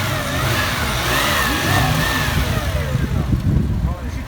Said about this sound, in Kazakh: Қозғалтқыш әңгіме жоқ, жақсы жасап.